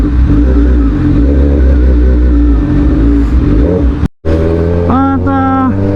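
Engine of a Suzuki GSX-S1000 motorcycle on a ride through traffic outside a school, heard close and loud. The drone holds steady, then cuts out briefly, and a rising rev or horn-like tone follows.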